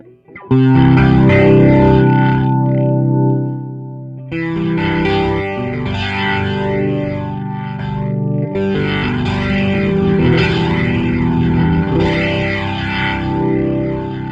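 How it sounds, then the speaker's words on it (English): Heavily overdriven electric guitar through an AmpliTube 5 amp simulator playing chunky, sustained chords with a harsh, saturated tone, loud and continuous, with a brief pause before resuming. "it's like angry overdrive"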